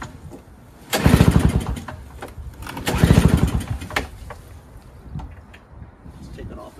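A single-stage Toro or Craftsman snowblower engine is pull-started, sputtering through two loud close bursts of chugging that die away, then faint idle-like putters, with people talking around it.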